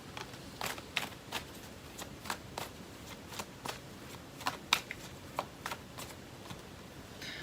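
Oracle cards are shuffled by hand in a quiet room, giving a string of soft, crisp riffling snaps at an uneven rhythm, close and fairly faint, with no talking.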